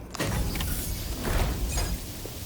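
A door mechanism in Death Stranding 2 opens with a loud, broad mechanical grinding and hiss, a few clanks rising over a steady roar, close and continuous for a couple of seconds.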